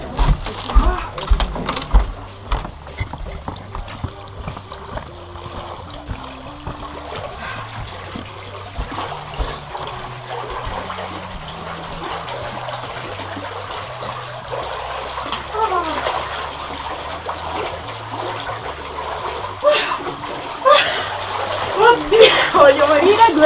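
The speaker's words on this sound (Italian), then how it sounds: "andiamo a fare questo bagno nell'acqua, che sono meno 19 gradi" A person takes an icy-water plunge after a Finnish sauna at minus 19 degrees, with water sloshing and splashing under near, breathless talking, growing louder toward the end.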